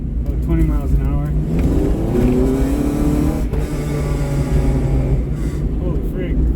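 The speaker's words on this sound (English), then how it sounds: "give it a light rev and see how she does" A K24-swapped Honda Insight revs in second gear at about 20 mph, the engine note rising and falling in loud, close sweeps with a brief dip midway, heard from inside the car.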